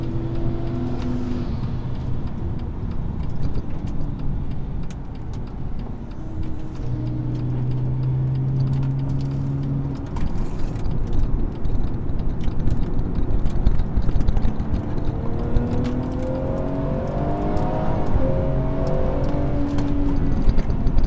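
A BMW M240i on Goodyear Eagle F1 Supersport tyres lapping Donington Park, its engine droning steadily from inside with pitch sweeping up and down through gear changes under a constant rumble of road and wind noise.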